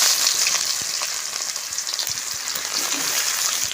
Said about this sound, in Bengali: আমি লালচা করে ভেজে দেবো।